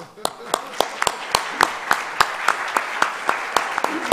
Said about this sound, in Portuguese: te pido por favor que levante para te darnos una salva de palmas